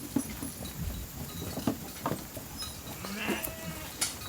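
Sheep bleat repeatedly at grain feeding time as the flock is called in for the night on a fiber farm, several animals calling close by with overlapping cries and light hoof and movement noise underneath.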